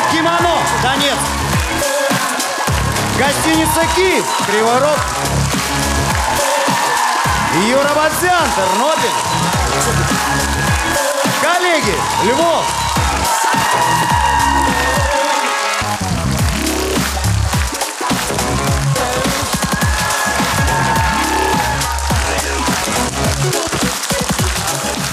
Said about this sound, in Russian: И под ваши аплодисменты те, кто нас сегодня веселил